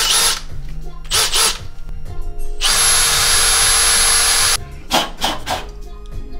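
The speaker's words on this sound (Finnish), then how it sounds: "Sen jälkeen otetaan pora." A power drill bores a hole through a door to fit a Yale electronic door viewer, running in one sustained loud burst of about two seconds, flanked by several shorter whirring bursts before and after, close to the listener.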